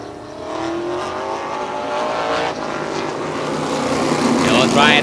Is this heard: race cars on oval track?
yes